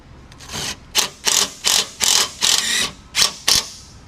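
A power driver tightens screws on a metal top bracket for a Polaris Ranger 1000 Northstar, making a series of about eight short whirring bursts in an uneven rhythm, close and clear with no talk.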